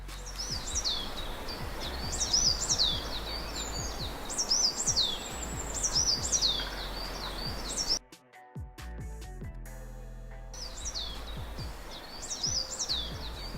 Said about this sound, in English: I have then added the birds chirping sound effect